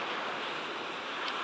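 Sea waves wash and break steadily in a continuous broadband roar, with some wind noise on the microphone and no voices.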